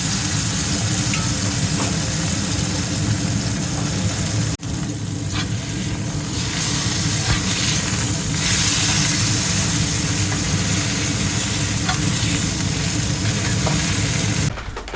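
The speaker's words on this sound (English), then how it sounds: "I've decided to finish off the steak in that garlic at the top stove" Skirt steak sizzles in garlic lard on a stovetop, with a steady, loud, crackling fry running through the whole stretch and a brief dip partway through.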